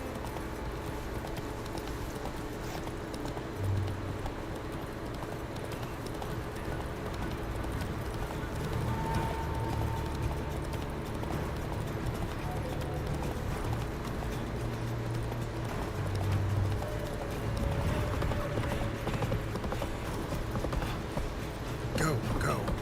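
Roach, the horse from The Witcher, clip-clops with hoofbeats buried low in a busy game mix, while voices talk over them for much of the stretch.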